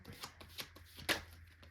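Tarot cards being shuffled and drawn during a love reading, a run of close, crisp riffling flicks and slaps with one sharper snap near the end, no voices.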